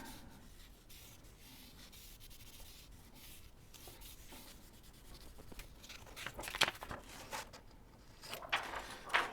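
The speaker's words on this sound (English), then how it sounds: "I'm going to burnish it from the back side." Soft rubbing and scraping as a part on a P-40 Tomahawk scale model is burnished from the back, a steady quiet friction with a few sharper scratches near the end.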